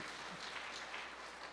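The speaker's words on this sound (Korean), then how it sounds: "머리 숙여서 다시 한번 박수 쳐주시기 바랍니다." A church congregation applauds during a Sunday service, welcoming new members; steady, diffuse clapping from a crowd fills the room throughout, fairly soft and distant.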